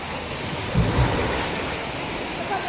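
Ocean surf washing in at high tide, a steady broadband wash with a slightly stronger surge near the start, mixed with wind noise against the microphone.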